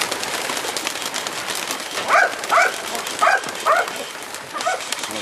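A dog barks in a handful of sharp bursts at pigeons over a steady wash of outdoor noise, with the pigeons fluttering and cooing faintly in the background.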